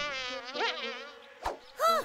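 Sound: buzzing bugs being chased

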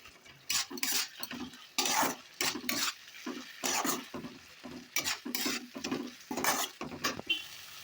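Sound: spice paste being stirred and sautéed in oil in a pan

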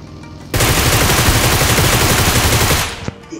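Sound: Groza rifle gunfire in video game PUBG Mobile

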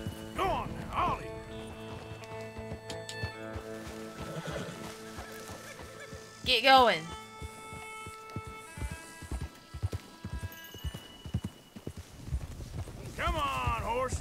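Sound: horses galloping and neighing in video game Red Dead Redemption 2

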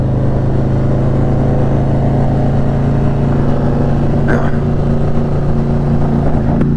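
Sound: Harley Davidson Sportster Iron 883 motorcycle flyby

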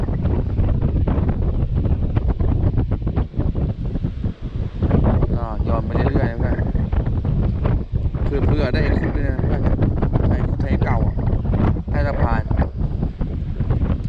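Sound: strong wind at sea on a fishing boat

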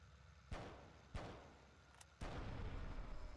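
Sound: explosion in a video game

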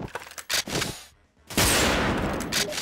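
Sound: gunfire in video game Wolfteam

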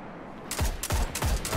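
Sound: gunfire in the video game Destiny

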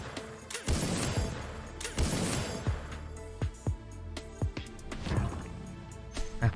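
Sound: gunshots from the sniper feature of the Dead Riders Trail slot video game

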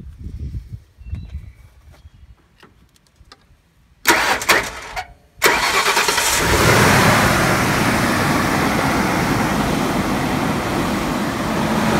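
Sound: Ford F150 pickup truck engine starting up

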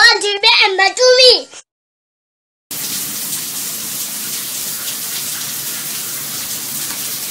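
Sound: shower water running

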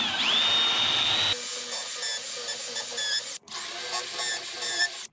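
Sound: drilling pocket holes in cabinet side panels

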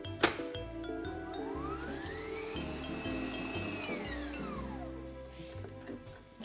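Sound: mixing corn muffin batter after adding milk

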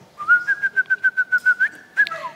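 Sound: person whistling imitating a bird's tweet

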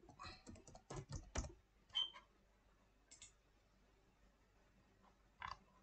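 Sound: typing on a computer keyboard

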